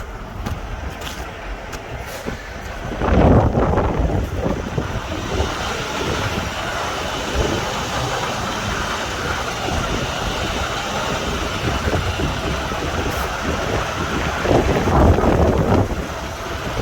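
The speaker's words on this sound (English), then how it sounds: "It's windy." Strong wind buffets the microphone in a steady, loud roar with gusty surges, no voices heard.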